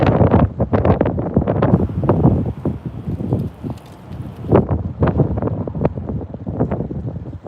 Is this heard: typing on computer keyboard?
no